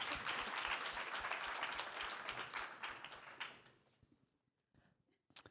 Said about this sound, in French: Allez, vous pouvez applaudir aussi Julien.